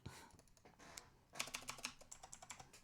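Rapid clicks of a computer keyboard as someone types, a sparse patter at first and then a denser, louder burst of keystrokes, heard up close with no voices.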